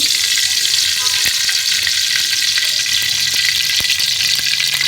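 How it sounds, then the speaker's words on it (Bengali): Chicken for biryani fries in hot oil in a pan. A loud, dense, steady sizzle fills the whole stretch, with a few sharp clicks from stirring on top. No voices. "বিরিয়ানি চিকেনটা আমি ফার্স্টে তেল দিয়ে দিলাম"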